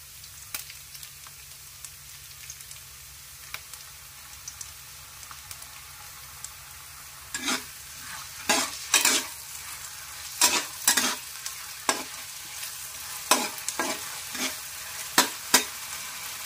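Onion and oyster sauce sauté in a pan under a soft, constant sizzle, with a run of sharp spatula clicks and scrapes against the pan in the second half; nobody speaks.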